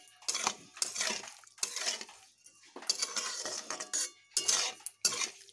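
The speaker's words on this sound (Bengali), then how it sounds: "চিনিগুলোকে ভালোভাবে এইভাবে মিশিয়ে নেব" Sugar being stirred into a wax gourd chutney in a metal pot, a spoon scraping and clinking against the sides in repeated rhythmic strokes, close and continuous, without speech.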